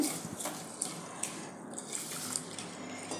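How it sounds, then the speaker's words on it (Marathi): Soft splashing and trickling of water with small clicks and drips, fairly quiet and close, as Indrayani rice grains are swished and rinsed in a bowl. "एक दोन पाण्याने धुवून घ्यायचे"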